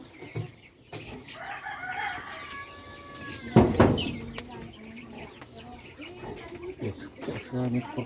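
A rooster crows once, fairly close, on a morning in Cagayan Valley, Philippines, amid scattered background noises and brief clucking.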